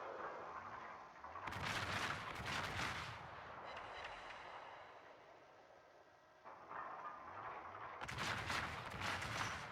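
Heavy warship shells fire in a naval battle game featuring the battleship Seattle, two loud booming salvos of rumbling, crackling blasts separated by a quieter stretch of ship and ocean ambience.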